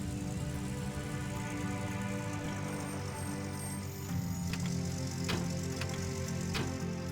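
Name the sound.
truck engine while parking, from Gold Rush: The Game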